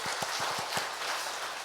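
A church congregation at a Sunday service claps in thanks, a brief, fairly light patter of hands with a few sharper claps, heard alone.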